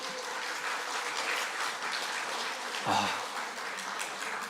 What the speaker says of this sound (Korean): 여러분 한번 큰 박수 한번 부탁드리겠습니다.